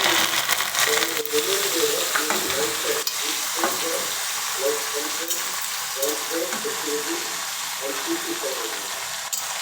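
Curry leaves fry in hot oil for a traditional karepaku powder, giving a steady, dense sizzle with soft stirring that runs the whole time beneath a faint melodic background.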